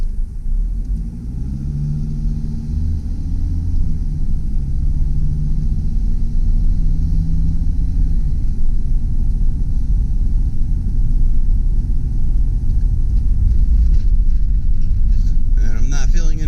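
A 2005 Freightliner Sprinter 10-passenger turbo diesel van running and pulling away, a steady low diesel rumble with a rising engine tone early on, heard from inside the cabin.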